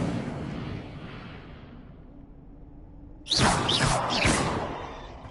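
A burst of Incendio fire spell cast in a Hogwarts video game erupts suddenly after a quiet stretch, a loud whooshing flare with crackling swishes that fades gradually.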